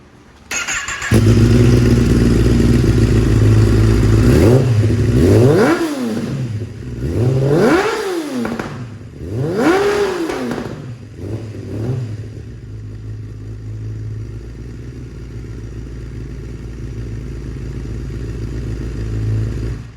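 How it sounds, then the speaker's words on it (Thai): A 2016 Kawasaki ZX10R sport bike idles loud and close, then its exhaust blips through three sharp rising-and-falling revs before settling back to a deep, rumbling idle. "เดี๋ยวไปฟังเสียงท่อกันดีกว่านะครับ"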